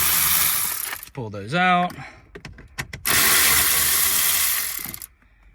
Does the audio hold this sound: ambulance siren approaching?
no